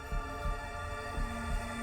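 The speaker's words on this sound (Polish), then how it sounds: "Czemu serce mi przez cały czas bije?" Heartbeat from the video game Minecraft, a series of soft, low, dull thumps repeating at an uneven pace beneath a steady droning hum, with no voices.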